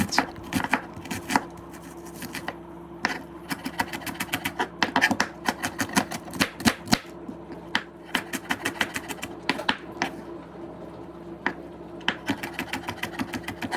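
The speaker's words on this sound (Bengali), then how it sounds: "একটা পেঁয়াজ নিয়েছি পেঁয়াজটাও কেটে" An onion is chopped on a board with a quick, steady run of sharp knife taps, close and crisp, with brief pauses between bursts and a faint hum underneath.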